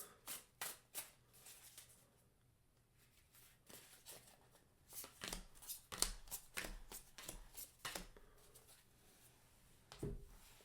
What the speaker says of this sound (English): I feel like doing a typical card shuffle for this one.